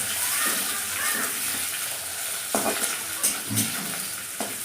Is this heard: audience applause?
no